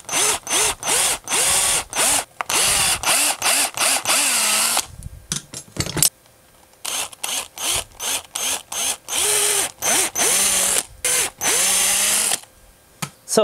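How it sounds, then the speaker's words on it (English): A power drill bores 3/8 inch holes in a wooden lipless crankbait lure, in loud, close bursts of a few seconds each. The motor pitch rises and sags as the bit bites into the wood, and there are short pauses between the bursts. "I'm gonna have to drill these massive 3/8 holes after I've got all this sanded down"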